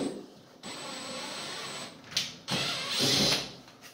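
A power screwdriver drives a slightly larger screw into an AEG Electrolux fridge-freezer hinge, with a sustained whirring motor and a brief pause before a second louder burst, close by with no speech.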